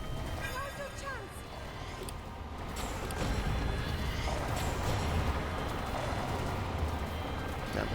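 A horse whinnies and hooves clop along in The Legend of Zelda: Breath of the Wild, over a steady game soundscape with rain; a voice is heard briefly.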